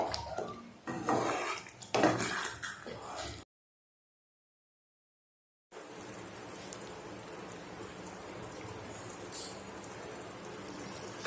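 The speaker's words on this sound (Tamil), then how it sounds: "லோ ஃப்ளேம்லேயே வச்சு நல்லா மிக்ஸ் பண்ணி விட்டுட்டே இருங்க" Tamarind candy mixture is stirred in a pan over a low flame, a spoon scraping and clinking against the metal, then after a silent gap a soft continuous bubbling with occasional light taps.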